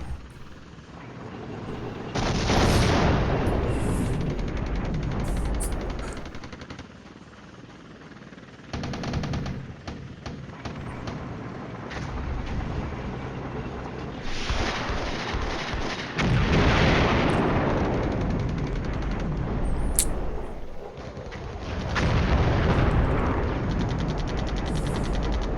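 Artillery fire in the Cold War strategy game Flashpoint Campaigns, with repeated booming bursts and rattling volleys arriving in waves, loud and dense, separated by quieter stretches of rumble.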